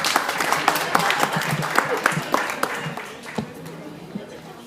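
An audience at a conference in Ecatepec claps for a young girl, giving scattered, crisp applause that stays fairly steady before slowly thinning out, with a few voices mixed in.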